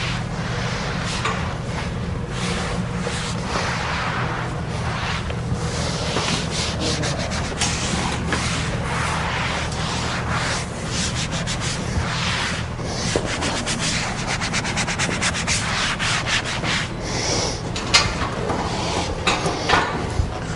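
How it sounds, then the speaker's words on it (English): A microfiber cloth rubs across freshly washed wallcovering during installation, a steady close scrubbing and swishing that runs without pause. "And I like to dry it with a microfiber."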